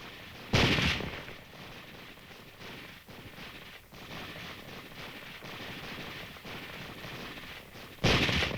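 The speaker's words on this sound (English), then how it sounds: "These hardy veterans of many bitter Korean battles have a unique method of target practice." French battalion veterans firing during target practice in Korea, two sharp, close, loud shots at the start and end, with a bed of distant crackling gunfire in between.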